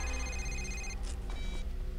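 Cell phone ringing in the video game Condemned: Criminal Origins, a steady electronic ring tone repeating twice in quick bursts over a low ambient game hum.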